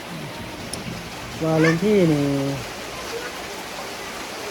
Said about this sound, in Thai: เฮ้ยฝนตก